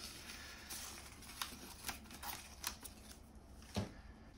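Seal strip being peeled from an envelope flap during paperwork folding: faint, papery crackles and soft rustling ticks in a few separate bursts, close by and quiet, with no one speaking.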